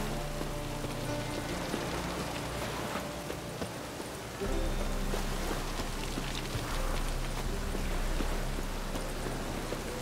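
Steady rain falls on surfaces in the Witcher 3 game world, a dense, even hiss throughout that grows slightly heavier halfway through, with faint clopping hooves beneath it.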